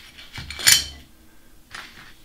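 Small metal nut blocks drop into an X-axis plate during a Workbee Z1 CNC machine build, giving two close, bright metallic clinks: a cluster early on and a lighter one a moment later.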